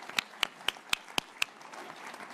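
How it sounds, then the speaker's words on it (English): Six sharp, evenly spaced hand claps ring out after a women's sports summit panel, fairly quiet and close, before fading into a low murmur of room noise. "Round of applause."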